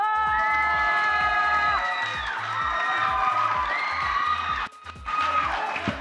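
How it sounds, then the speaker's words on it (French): An audience at the Genie Milenyal 2022 final cheers loudly for the performer Zoma, with whoops and shouts over steady thumping music, then a brief dip near the end before the crowd roars again. "S'il vous plaît, on applaudit Zoma!"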